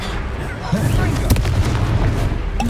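Spell blasts boom out in Hogwarts Legacy, each Confringo explosive cast landing as a thudding burst over dense, rumbling game combat noise, with a few sharp hits standing out near the middle.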